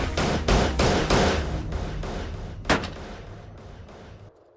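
A rifle firing a 325 grain bullet at a whitetail deer during a late-season hunt, heard as a loud sharp report with a rolling decaying echo, then a second fainter crack a couple of seconds later.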